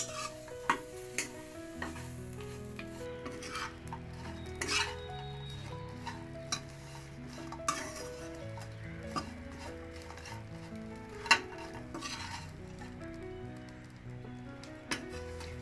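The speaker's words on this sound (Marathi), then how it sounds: "छान असे गुलाबी रंग येईपर्यंत भाजूया।" Dried Bombay duck fish dry-roasts in a pan, with repeated spatula scrapes and clinks against the metal over a faint crackle, at an irregular, unhurried pace, no speech.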